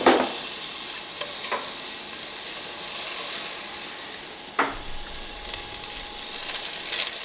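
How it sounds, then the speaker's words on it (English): Roughly a tablespoon of butter melting in a very hot pan gives a loud, steady, close sizzle with a couple of faint clinks, and there is no talk. "Alright, our pan's pretty hot. We're going to stick about a tablespoon of butter in there."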